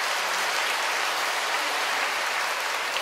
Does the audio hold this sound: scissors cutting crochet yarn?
no